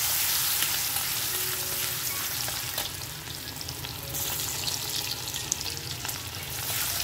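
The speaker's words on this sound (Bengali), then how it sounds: "আর দিয়ে দেবো যে ছোলার ডালটা আমি ভিজিয়ে রেখেছিলাম" Soaked chana dal fries with spices in a pan, a close, constant sizzle with faint stirring scrapes that eases briefly midway, then picks up again.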